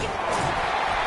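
Steady roar of a large crowd at an NCAA football game in a packed home stadium, a continuous loud wash of cheering with no breaks across the short moment.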